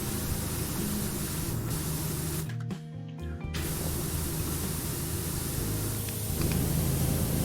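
A pressure washer in the video game PowerWash Simulator sprays in a loud, continuous hiss that cuts out briefly partway through and then resumes, with no talk.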